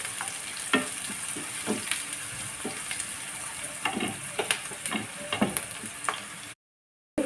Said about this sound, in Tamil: வெங்காயம், கருவேப்பிலை, பச்சை மிளகாய் எல்லாமே போட்டுட்டு இது நல்ல செவக்க வதக்கணும்.